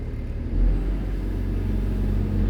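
A SANY SY215C ACE crawler excavator's diesel engine revs up, a steady loud low rumble that swells slightly and holds, heard close with no talking.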